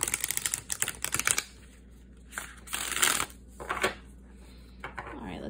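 Brand-new oracle cards shuffled close by, with rapid crisp riffling bursts and softer papery slides separated by short gaps, fairly loud and with no talking.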